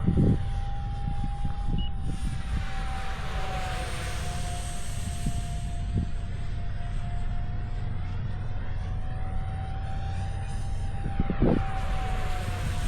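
A low-flying NGAD model jet cruises at part throttle on a bright sunny day, its steady whining tone drifting overhead, with a few faint thumps and rustles nearby.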